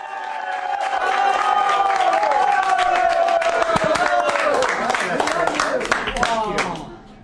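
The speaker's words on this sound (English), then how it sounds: "he got a round of applause" Diners in a Vietnamese restaurant erupt in applause and cheers for a visiting politician, dense clapping mixed with shouting voices that stays loud for several seconds before dropping away.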